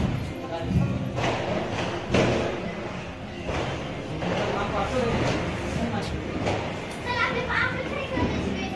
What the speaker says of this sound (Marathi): तर बाहेर खूप फटाक्यांचा आवाज येतोय